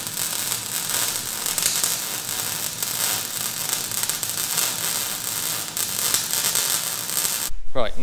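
A welder fills a seam with a constant crackling, sizzling buzz that runs unbroken for several seconds, close and loud, cutting off abruptly near the end.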